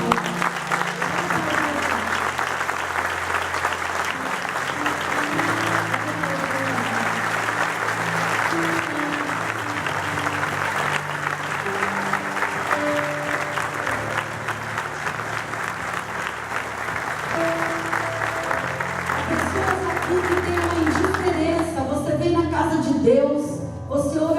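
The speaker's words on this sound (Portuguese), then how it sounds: "Pode aplaudir o Senhor" A church congregation at a missions service claps for the Lord in sustained, even applause, with sung or spoken voices and musical tones running beneath the clapping, which grows busier near the end.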